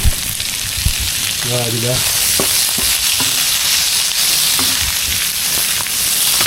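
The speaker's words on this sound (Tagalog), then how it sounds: "Konting gisa lang yan mga tol." Ingredients sautéing in a hot pan give off a loud, steady sizzle and crackle that fills the whole stretch, with a few faint stirring clinks and a brief voice speaking over it.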